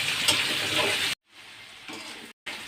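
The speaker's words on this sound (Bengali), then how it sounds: "এখন প্রথমে আমি আলুগুলো ভেজে নেব" Potatoes sizzle and crackle loudly in hot oil, the frying broken by two brief silent gaps.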